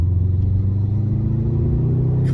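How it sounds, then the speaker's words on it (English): A 360 bhp Subaru WRX STI pulls hard under acceleration as its turbo comes on, a loud, steady low engine rumble heard from inside the car. "You can feel that turbo kick in"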